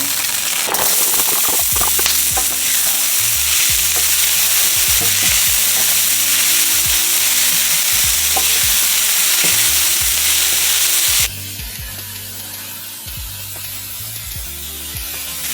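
Oil sizzles and crackles hard in a pan while beef pieces fry for beef and noodles. A dense, loud spattering runs throughout with rapid pops, then drops to a quieter, steadier sizzle for the last few seconds.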